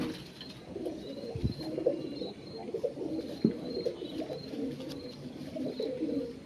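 Kalaka pigeons, a pair of male and female birds, coo softly and repeatedly at close range over a low background murmur, with a few faint chirps and small rustles mixed in.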